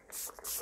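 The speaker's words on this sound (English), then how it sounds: "We're gonna go in with setting spray. This is the Switch Beauty Superhero Spray," Two quick spritzes of Switch Beauty Superhero setting spray from a pump bottle, short airy hisses close by, faint and alone.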